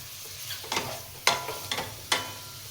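Spice-coated chicken fry pieces, dusted with biryani masala and chilli powder, are stirred in a pan over a low flame, giving four or five scraping strokes at irregular intervals over a faint steady sizzle, close by with no talking.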